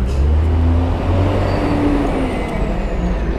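Garbage trucks and other heavy traffic rumble past on an alternative road to the Bantar Gebang landfill area, a loud continuous low engine drone with a brief air-brake hiss, close by.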